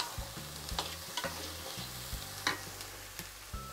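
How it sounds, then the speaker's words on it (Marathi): Chopped medium-cut tomato stirred in a pan with a spoon, a steady soft sizzle under a series of distinct scraping and clinking strokes, close and alone with no talking. "आता हे मी जरा हलवून घेते।"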